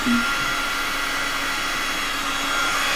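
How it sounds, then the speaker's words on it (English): Steady, loud rush of air from a heat gun blowing hot while its heat setting is turned down, a continuous broadband whoosh with a faint tonal whine, unbroken for the whole stretch. "I'm turning the heat down on my heat gun, but it's going to blow hot for a little while"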